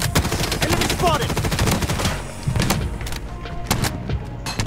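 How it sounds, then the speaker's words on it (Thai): A defensive turret fires in the shooter game BloodStrike, loud rapid bursts of automatic gunfire with short gaps between volleys, close and punchy, with brief game voice lines mixed in. "Defensive turret activated."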